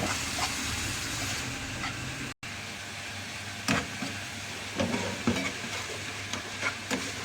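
Spinach rice with vermicelli being stirred in a pot, soft scraping and clinking strokes at irregular intervals over a steady low sizzle, close and fairly quiet, no talk.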